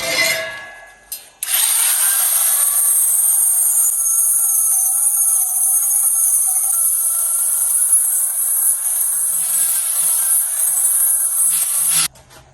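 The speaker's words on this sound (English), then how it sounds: "Just going to grind down these welds and screw them out." An angle grinder grinds down welds on a custom metal battery box, a loud, steady high-pitched whine running continuously for about ten seconds after a brief start, then cutting off.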